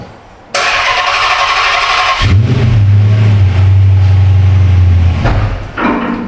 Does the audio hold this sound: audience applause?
no